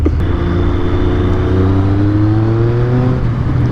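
A Triumph triple motorcycle engine pulls hard under acceleration, its rising harmonic drone climbing steadily in pitch, loud and close with no pauses.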